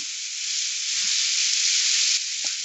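Capsicum, carrot, green peas, beans and other vegetables go into a hot pan for navaratna curry, producing a loud, even sizzle that holds steady for a few seconds with a couple of faint knocks.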